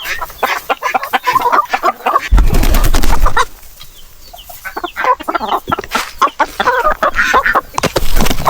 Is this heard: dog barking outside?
no